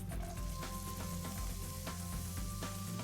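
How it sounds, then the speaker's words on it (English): Mexican chorizo sizzles in olive oil in a saute pan, a steady close frying hiss with occasional light clinks and stirring, no voices. "in a saute pan, I've got some Mexican chorizo with a little bit of olive oil, sauteing and browning"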